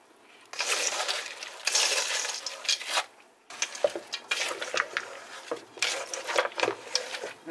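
Chex Mix snack mix is tossed in bowls to coat it, producing bursts of dry rattling and clattering pieces in several rounds with short pauses between them.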